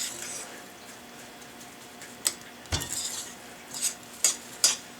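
A small spoon scrapes and taps against a bowl while zucchini tot mixture with frozen cheese is shaped, giving a few sparse, close scraping clicks over a quiet background.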